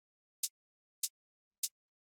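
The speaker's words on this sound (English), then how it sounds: "Underneath the kick, you can find a short little hi-hat that sounds like this on its own." A short, thin hi-hat sample for a relaxing desert house track, with most of its harsh frequencies filtered out, heard alone: three crisp ticks spaced evenly about half a second apart, with nothing between them.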